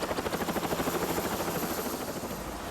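A security company's helicopter runs nearby, its rotor thumping in a fast regular pulse over a steady engine roar, loud and continuous.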